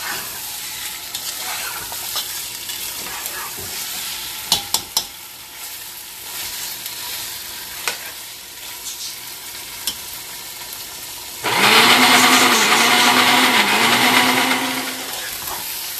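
Steady sizzling and stirring of chicken frying in a pan with ginger and garlic, with scraping clatter, then a motor hum joins briefly near the end.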